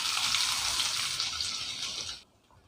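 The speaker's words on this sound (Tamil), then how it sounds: "இப்போ இதில் நான் தேங்காய் எண்ணெய் ஊற்றிக்கிறேன். இப்போ நான் இந்த இடித்ததை நான் சேர்த்துக்கிறேங்க." Crushed garlic sizzling in hot coconut oil in a pan for a prawn fry, a loud bright hiss and crackle that holds steady then drops away abruptly, leaving near silence.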